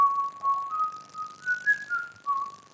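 A single person whistles a slow, wavering tune at a farm reputed to be haunted, the notes soft and somewhat faint, gliding up and down in a quiet room.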